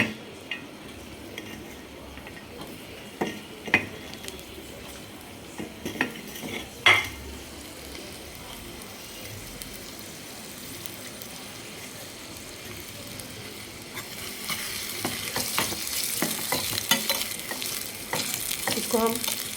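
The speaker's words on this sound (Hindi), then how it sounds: "अब इस फ्राई पैन में हम लोग जो हमने अनियन काटा था हाफ स्लाइस में, उसको भून लेंगे।" Half-sliced onions fry in desi ghee in a frying pan over low heat for a mutton curry, giving a steady soft sizzle with occasional stirring and utensil clinks that grows brighter and louder toward the end.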